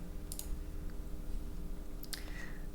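Two sharp mouse clicks while working in Excel, one near the start and another about two seconds later, faint against a steady low background hum.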